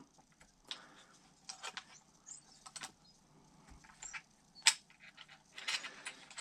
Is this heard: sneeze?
no